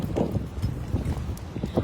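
Wind at an island beach, gusty buffeting rumble across the microphone with irregular low thumps, fairly close and moderately loud throughout.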